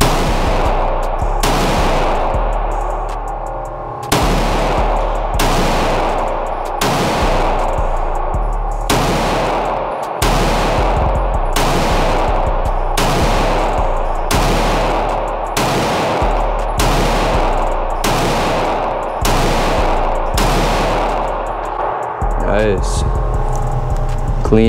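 Glock 19 MOS pistol fired at a shooting range, about fifteen loud sharp close shots spaced at a slow, fairly regular pace, each with a short echoing tail, over a constant low background rumble.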